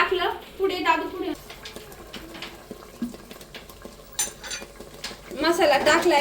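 A spoon or spatula stirring and scraping masala fried in oil in a metal kadhai, clinking and rattling in short irregular bursts, near and fairly loud, with someone speaking at the start and end.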